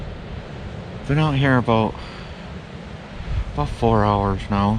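Strong wind rushes steadily outdoors on North Manitou Island during a hunt, a constant broadband roar beneath someone speaking close to the microphone.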